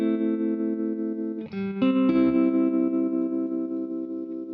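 Electric guitar through a Fender Tre-Verb pedal on its opto tremolo setting, a sustained chord ringing out with a slight pulsing sway, then re-struck with a brief scratchy attack, loud and alone.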